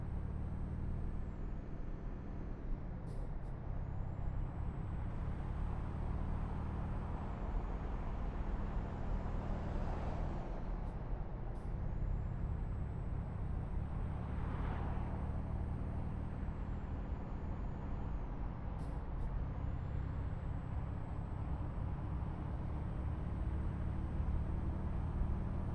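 Air brakes on a truck in the Euro Truck Simulator 2 driving game give several sharp short hisses over a steady low engine and road drone, with no talk.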